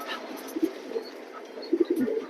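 Pigeons at a pigeon sale give soft, low coos in a few short bursts, one near the start and a cluster toward the end, over a busy market-like background murmur.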